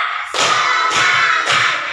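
A fourth-grade class claps together in a focus-clapping routine, three loud group claps at a steady pace, each ringing out before the next.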